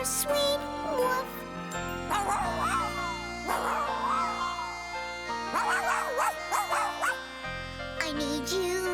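A cartoon dog yips and barks in short bursts over a continuous song with instrumental accompaniment, in the animated children's film Madeline and the Haunted Castle.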